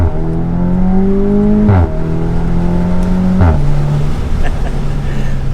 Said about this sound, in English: when I give a gas, you can hear the valve is open and it has a little bit more beefy tone